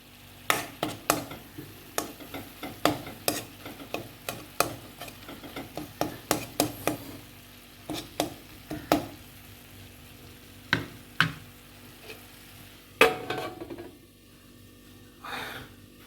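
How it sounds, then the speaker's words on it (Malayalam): Tomatoes frying in a pan while being stirred and mashed with a utensil, a series of sharp scraping knocks in irregular rhythm over a soft sizzle, close and clear with no talk. "തക്കാളി കഴിയുന്നത് ഇങ്ങനെ ഉടച്ച് കൊടുക്കാൻ ശ്രമിക്കുക."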